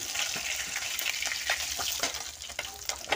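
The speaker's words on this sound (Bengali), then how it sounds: "আমার এক পিঠ ভাজা হয়ে গিয়েছে, আর এক পিঠ ভাজা হোক।" Pomfret fish sizzles steadily in hot oil in a home kitchen, a dense continuous crackle with small spits and pops throughout, close and alone with no talking.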